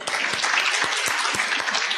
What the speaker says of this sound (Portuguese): então palmas para ele.